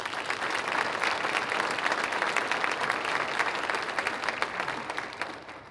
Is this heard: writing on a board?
no